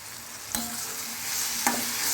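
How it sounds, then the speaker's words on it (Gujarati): Ripe banana curry with turmeric, coriander-cumin powder and salt being stirred in a pan: a steady sizzle with two distinct scraping strokes of the spoon, close and moderately loud, no voices. "હવે આપણે બધું હલાવી લઈશું"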